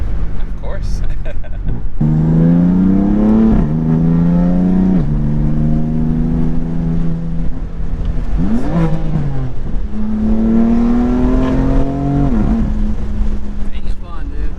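A tuned 500 horsepower BMW F80 M3 accelerating hard through gears, its engine note climbing and dropping at each shift, loud and close from inside the car, with voices talking over it.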